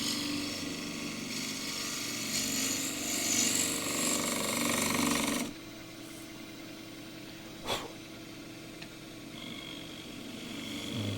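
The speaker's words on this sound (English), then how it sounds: "Deep fluted bowl gouge this time," A 3/8 deep fluted bowl gouge cuts a thin bowl of very green photinia on a lathe, a close, steady rough buzzing that stops abruptly midway, leaving a quieter spinning hum and one sharp knock.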